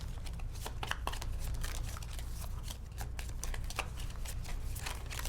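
Cards being shuffled for a board game at a table, a dense rapid riffling and rustling of card stock that carries on steadily and close, without talk.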